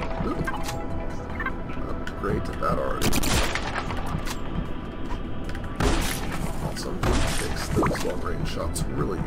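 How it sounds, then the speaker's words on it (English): Gunfire in the sci-fi roguelike game Space Grunts sounds in repeated rapid bursts of shots and blasts over continuous game background noise, with someone talking at times. "Don't waste good ammo, Tom."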